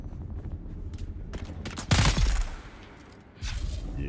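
Bursts of gunfire in the video game Dune: Awakening, a sharp volley around the middle followed by another burst, over a low background, no talk.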